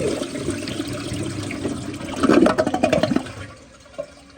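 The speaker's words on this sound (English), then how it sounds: "But now I'm going to go ahead and give y'all a close-up flush" An Acorn stainless steel tank toilet flushes close up, a rising rush of water that swells into gurgling surges and then drains away to a faint trickle, with no talk.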